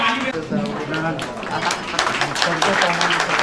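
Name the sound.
audience applause welcoming a guest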